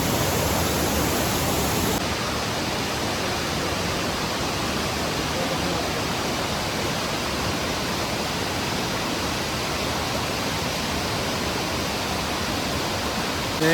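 Rawana waterfall near Ella, Sri Lanka, roars close by as a dense, unbroken rush of falling water, loud and constant throughout, with no voices.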